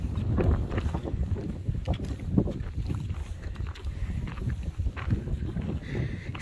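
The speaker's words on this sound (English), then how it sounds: "It's so cold and windy up here." Gusty wind buffeting the microphone at the top of the Grand Canyon on a cold, exposed lookout, a constant low rumble with irregular gust swells.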